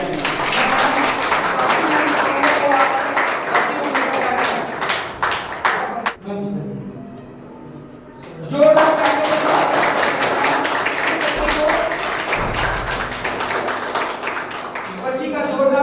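Audience applause at a school felicitation ceremony for class 9 to 12 sports and culture winners: steady crowd clapping that pauses briefly and then swells again, with an announcer's voice speaking over it.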